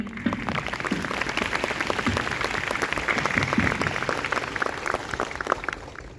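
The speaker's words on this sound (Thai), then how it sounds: "ขอเสียงปรบมืออีกทีหนึ่ง" Dense applause from a crowd at a fan meeting, steady and sustained throughout with many overlapping claps, moderately loud.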